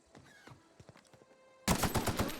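Gunfire in the sci-fi role-playing game The Outer Worlds: a few scattered quieter shots, then a sudden loud rapid burst of automatic fire close by.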